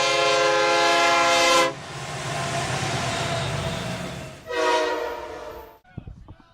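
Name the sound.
train sound effect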